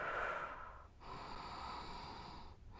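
Deep, slow breaths taken while holding Hanumanasana, a half or full splits, in a vinyasa yoga class. Breathing is close and steady, with two brief pauses between the long inhales and exhales.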